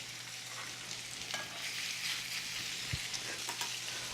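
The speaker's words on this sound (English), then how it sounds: "I'm going to put them right into the pan." Pork chops sear in a hot pan with a constant, even, hissing sizzle and a few faint crackles and one low knock, fairly quiet and with no talking.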